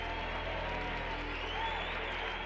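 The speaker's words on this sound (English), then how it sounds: "the auditorium erupted in a great cheer" An auditorium crowd cheers and applauds at the moment of a Ranger spacecraft's lunar impact, a dense, steady wash of clapping and voices that fills the room at even loudness from start to finish.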